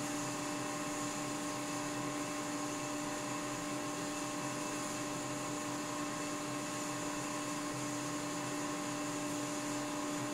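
A Leybold Turbovac 150 turbomolecular pump spins up, giving a steady high whine layered with sustained tonal hum at a fairly low, even level, with no talk.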